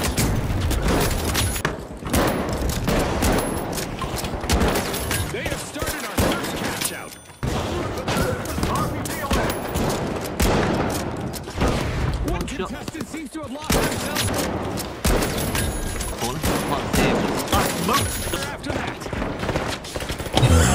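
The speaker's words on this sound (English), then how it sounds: "The slug shotgun feels really good." Near-constant heavy gunfire from a slug shotgun and other weapons in a shooter video game, dense booming blasts with brief gaps, while a player talks over it.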